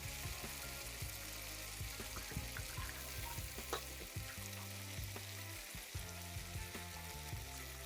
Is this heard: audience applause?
no